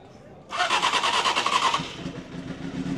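A used motorcycle with over 70,000 km cranks and catches, then idles with a rough, rapid pulsing rumble, close and loud.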